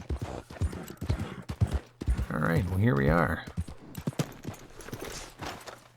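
Horse hooves clip-clop in a fast rhythm in the video game Red Dead Online, close and prominent, with someone talking over the hoofbeats.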